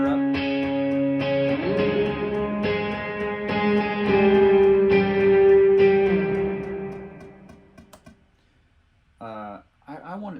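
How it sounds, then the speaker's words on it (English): Electric guitar chords ring out with a long reverb tail, a few strummed hits sustaining and fading into near silence before a brief voice at the end. "So here's this track solo with the reverb."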